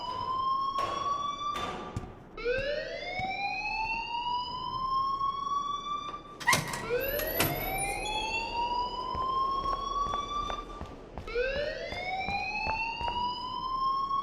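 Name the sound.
alarm ringing in the Life Is Strange video game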